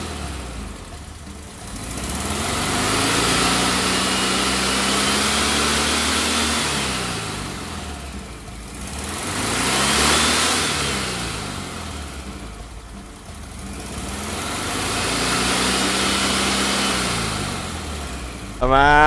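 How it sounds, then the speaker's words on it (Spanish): Volkswagen combi van engine revved in repeated swells, rising and falling through several throttle bursts between steadier idle, loud and close with no talking over it. "Déjale ver unos acelerones, ¿no? Para que se escuche perrón"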